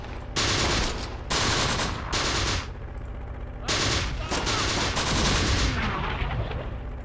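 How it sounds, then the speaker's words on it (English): Tank guns firing shells in the Close Combat war game, several loud booming bursts in quick succession with rolling gunfire and a continuous battle din between them, no voices. "That's just coming from our tank. Just firing shells through the damn thing to make sure no allies are defending the area."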